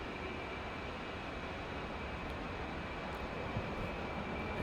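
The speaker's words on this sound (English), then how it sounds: "The left engine is started." A-10C jet engine running steadily in the DCS flight simulator, a loud continuous turbine roar with a thin high whine on top, unbroken and close throughout.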